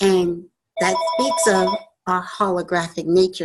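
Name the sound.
phone ringing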